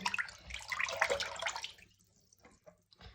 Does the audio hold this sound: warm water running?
yes